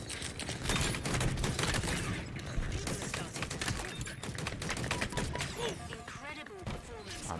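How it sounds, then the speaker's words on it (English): A grenade launcher fires a double shot in a video game, a dense burst of explosive bangs and rattling gunfire layered over continuous game noise, with a voice talking underneath. "I'm just going to double shot grenade this."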